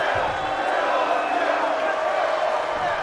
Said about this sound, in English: You can hear the crowd behind.